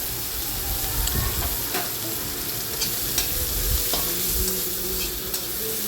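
Whole cumin and a medium onion fry in a kadai with a loud, constant sizzle close by, broken by scraping and stirring of a spoon, with no talk.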